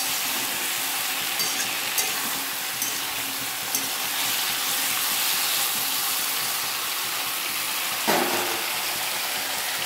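A paste of ginger, poppy seed and melon seed fries in a pan for shukto, giving a continuous, fairly loud hissing sizzle with a few brief clatters.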